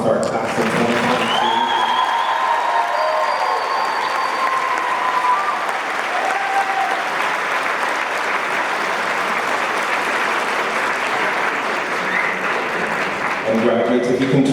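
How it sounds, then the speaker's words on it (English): A crowd at a high school graduation ceremony claps and cheers for the class of 2022, a loud, sustained roar of applause with a few whoops and voices rising above it. "If we can give one more round of applause to our class of 2022."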